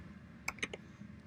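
Three quick keystrokes tap on a computer keyboard while column names are typed in. They are quiet and close over a low room hum.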